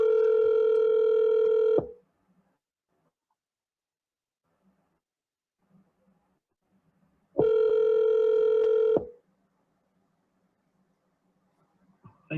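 Outgoing telephone call ringback: two long electronic ring tones, each about two seconds, separated by several seconds of near silence, clear and close.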